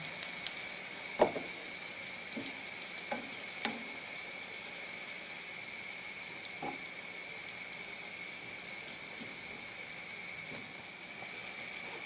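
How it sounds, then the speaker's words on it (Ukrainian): Violet blewit mushrooms stew with cream in a pan, giving a faint, steady low simmer with a few soft clicks and taps of a utensil early on, quiet and without any voices. "Додаємо вершки та продовжуємо тушкувати гриби, щоб випарувалася рідина"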